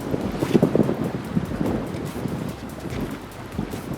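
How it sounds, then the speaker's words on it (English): Gusty wind buffeting a camera microphone beside Strawberry Reservoir in 25 to 30 mph sustained winds, loud rumbling bursts that rise and fall throughout with no voices. "Gonna be a little bit of wind on camera, I think."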